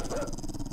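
A dog growls close by in the 7 Days to Die game, a low continuous snarl with faint yips, running steadily under the game's background ambience.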